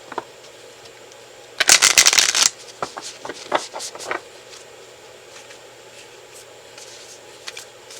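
Oracle cards shuffled by hand in one loud, dense riffling burst up close, followed by scattered soft taps and card flicks against a quiet background.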